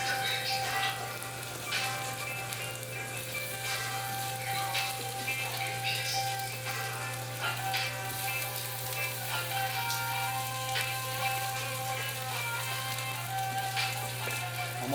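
Food sizzles steadily in a frying pan as a home cook prepares a Valentine's Day dinner, a continuous crackling hiss with small pops throughout, close and alone without talk.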